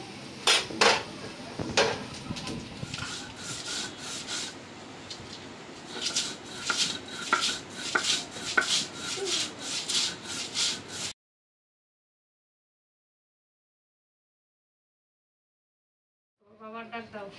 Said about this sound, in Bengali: এখন শুধু শিলপাটায় লবণ দিয়ে ভর্তাটা বেটে নিব।